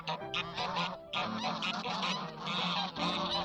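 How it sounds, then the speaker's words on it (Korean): Loud, harsh goose honks repeat in rapid bursts, several calls overlapping in a noisy squabble close by as a female goose's mating is disrupted. "그레이가 암컷거위와 교미를 하려고 하고 있고 이쁜이가 소리 지르며 이를 방해하고 있다"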